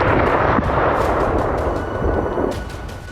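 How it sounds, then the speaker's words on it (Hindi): Heavy blasts and rumbling booms from a Russian missile and drone attack on Kyiv, a loud continuous roar with sharp impacts near the start, fading slightly toward the end. "पूरे शहर में विस्फोट की आवाजें सुनी गई।"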